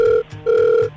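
A phone's disconnect tone after a hung-up call: two loud, steady electronic beeps separated by a short gap, heard clearly with no talking.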